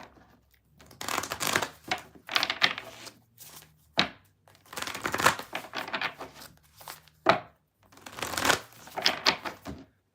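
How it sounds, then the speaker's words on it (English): Repeated riffling bursts of playing cards being shuffled, several bouts separated by short pauses, close and fairly loud with no talking. "One more shuffle."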